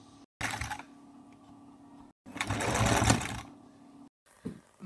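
A sewing machine stitching designer lace onto a front-open jacket, running in short close bursts separated by brief stops.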